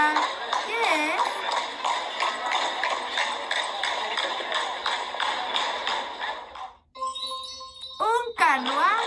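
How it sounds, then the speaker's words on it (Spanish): A horse-drawn carriage clatters past with a steady, even clip-clop of hooves and light jingling, continuous and fairly close for about seven seconds, before a brief different tonal sound at the end. "Un carruaje."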